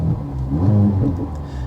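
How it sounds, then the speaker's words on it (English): A 2024 Mercedes-AMG C 43 idling in Sport Plus mode gives a steady, deep exhaust rumble with a slight swell in the middle, close and continuous, with no talk over it. "I don't know how well you can hear the exhaust note changing."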